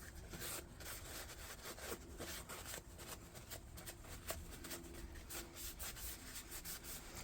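Clay being rubbed off a recycled light cover, with a steady dry scraping and rubbing texture that stays close and continuous, no voices.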